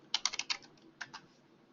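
Quick burst of keystrokes on a computer keyboard, several close clicks in a rapid run followed by two more after a brief pause, quiet and isolated.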